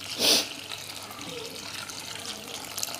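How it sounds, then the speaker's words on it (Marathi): A short splash of water poured onto minced soybeans near the start, then quiet room tone with faint background noise. "आता त्यात पाणी टाकून घेते मी"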